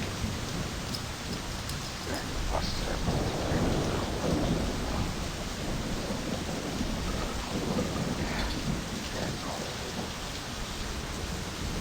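Steady rain pours in the video game My Summer Car, with low thunder rumbling through the downpour, continuous and fairly even with no talking.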